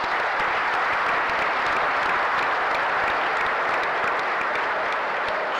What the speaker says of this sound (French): je voudrais qu'ensemble, nous lui fassions un banc d'applaudissements